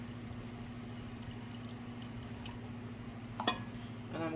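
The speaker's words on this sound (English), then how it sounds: "So I'm adding 2 cups of liquid here" Two cups of liquid are poured into a pot for making cornmeal coo-coo, a faint trickle and a few drips over a steady low kitchen hum.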